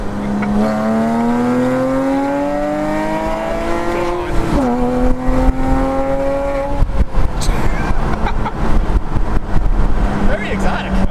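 A 2006 Porsche Boxster S with a valved catback exhaust revs up loud and close, its engine note climbing steadily, then settles into a crackling, popping burble, with voices faintly underneath.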